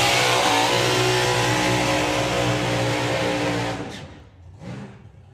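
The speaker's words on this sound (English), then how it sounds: "Supercharged 57 Chevy of Luke Watts from the Isle of Wight burns out in the Auto Glim Lane" A supercharged 1957 Chevy drag car doing a burnout in a drag strip lane at Santa Pod Raceway, a loud sustained roaring engine with dense harmonics, holding steady before dropping off sharply, followed by a brief rev burst.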